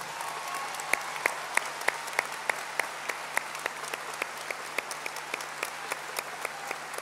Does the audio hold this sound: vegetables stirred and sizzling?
no